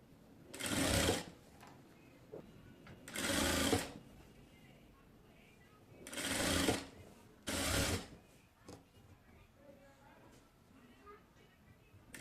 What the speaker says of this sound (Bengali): চতুর্দিকে হচ্ছে এরকম করে ঘুরিয়ে ঘুরিয়ে পুরোটাকে হচ্ছে আমি সেলাই করে নেব।